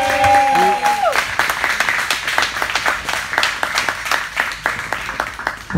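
A live audience claps for a DJ, a crowd of hands building into a brisk, fairly close round of applause that follows a moment of talk and runs to the end.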